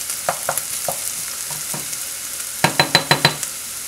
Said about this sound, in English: You can see I'm keeping using the hook spoon to put the onion back and forth, because I want to cook evenly.